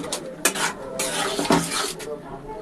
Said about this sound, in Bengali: এবার সব মিলিয়ে আমি নাড়িয়ে দেবো